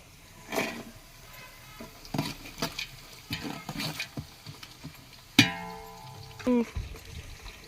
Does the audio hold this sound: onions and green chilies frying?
yes